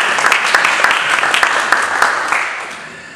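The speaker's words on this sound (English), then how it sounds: "can we have a round of applause for these guys?" Loud, close applause from an audience for musicians at the Southport Jazz Festival, brisk overlapping claps that begin to taper off toward the end.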